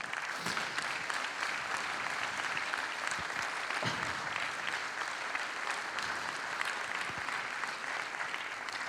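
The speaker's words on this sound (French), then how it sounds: "Je vous prie de l'applaudir, le voilà." An indoor audience at a DVD launch event at a Lausanne cinema applauds to welcome a pianist, a dense, even wash of clapping lasting several seconds.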